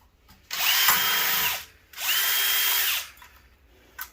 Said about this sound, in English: So we'll just grab our drill again.